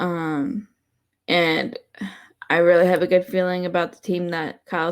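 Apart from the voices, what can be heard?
No everyday noise stands out behind the speech.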